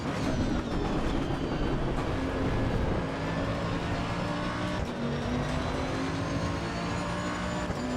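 Race car in Assetto Corsa EVO, with its engine roaring steadily and its tyres hissing as it slides through a corner. The sound is loud and continuous, with no voices.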